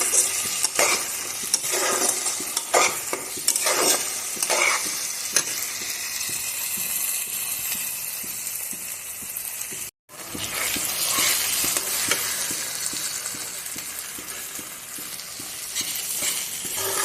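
A masala with chopped capsicum is sautéed in a pan with a constant sizzle and repeated scraping strokes of a spoon against the metal, with a brief cut to silence midway before the stirring resumes.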